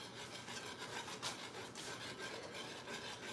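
A whisk scrapes steadily around a pot of French silk pie filling over medium-low heat, giving a quiet, continuous rasping rub with no clear pauses.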